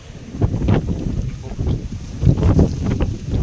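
Strong wind buffets the microphone in loud, uneven gusts that roar and rumble continuously with no break.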